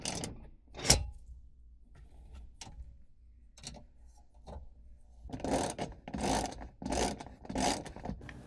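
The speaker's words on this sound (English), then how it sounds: "I was able to get it out with a wrench" A wrench loosening a bolt on a MOLLE storage panel inside a Toyota 4Runner, heard as a few scattered metallic clicks followed by a rapid run of close ratcheting bursts, fairly quiet with no talking.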